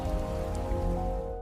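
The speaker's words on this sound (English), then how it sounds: "Monsoonal rains transformed the landscape." Heavy monsoon rain pours steadily in a Jurassic wet season, a dense continuous hiss and patter of drops on surfaces with low rumbling beneath, loud and unbroken throughout.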